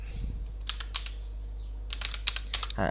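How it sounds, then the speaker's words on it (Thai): Quick bursts of keystrokes on a computer keyboard, typed in two short flurries separated by a pause, crisp and close in a quiet room over a faint steady hum. "พิมพ์ลงไปเลย"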